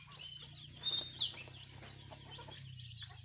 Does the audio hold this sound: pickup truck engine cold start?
no